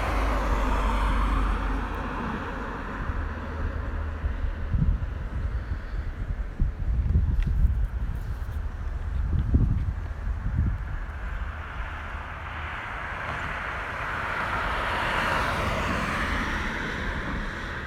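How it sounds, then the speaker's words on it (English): Strong wind rushing up the face of Diamond Head crater, a steady, loud low rumble of buffeting wind with gusts swelling and easing throughout. "really high winds coming up the face of that mountain"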